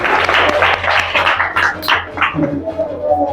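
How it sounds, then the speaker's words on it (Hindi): Loud, close applause for a student at a school results celebration, a dense continuous clatter of many hands throughout, with a voice briefly audible. "इनके लिए भी जोरदार तालियां।"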